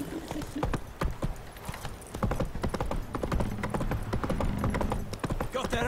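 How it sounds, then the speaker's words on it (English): Horse hooves clip-clopping on the ground in The Witcher 3, a steady trotting rhythm of sharp repeated hoof strikes, close and clear, with occasional speech over the top. "There is my horse. My magical horse."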